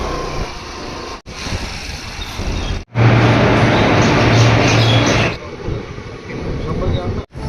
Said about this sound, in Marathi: गाईस नागपूर पुण्याच्या ट्रेनमध्ये बसलो आहे मी